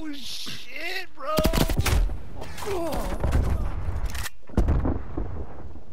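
A sentry turret in a video game fires rapid bursts of gunfire, with dense rattling shots and heavy thuds that are loud and close. Excited voices talk over the shooting.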